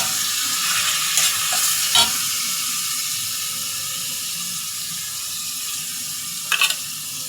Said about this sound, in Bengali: এবার আমি নেড়ে নিচ্ছি সুন্দর করে